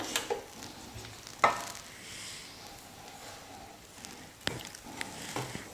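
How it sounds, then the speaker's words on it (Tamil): Ground masala powder hits hot oil for a Tamil-style non-veg curry, giving a steady low sizzle with a few sharp scrapes and clinks of stirring in the pan. No one speaks. "இந்த எண்ணெயில் சேர்த்துக்கலாம் மசாலாலாம்."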